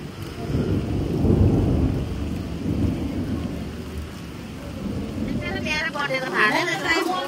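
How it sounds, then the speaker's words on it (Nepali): Heavy rain drums on a tent at a riverside camp in Kalimpong during a storm, a loud continuous wash with deep rumbling beneath it and a voice speaking toward the end. "अहिले पानी पर्दैछ"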